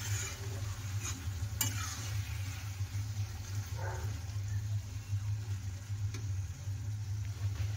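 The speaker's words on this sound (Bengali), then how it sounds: "তো দেখো মশলা দিয়ে আর ছালগুলোকে কষিয়ে নিচ্ছে।" Vegetable peels frying with spices in a pan, a steady close sizzle with a low continuous hum underneath and occasional faint clicks of stirring.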